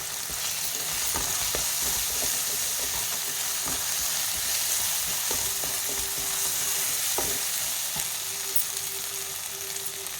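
Masala sautés for Vanjaram fish podimas, giving a constant close sizzle of frying. Occasional sharp taps and scrapes come from stirring in the pan, with no voices.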